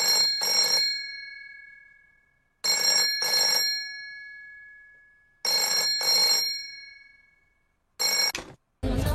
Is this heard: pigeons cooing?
no